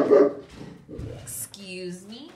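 A dog barking close by, drawn out by a neighbor outdoors, a few quick loud barks followed by a whiny yelping cry, with a person talking over and around it.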